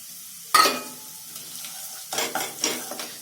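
Ginger and garlic drop into a pan of frying onions, setting off a sharp sizzling burst, followed by further hissing and stirring scrapes a moment later, close and fairly loud with no voices.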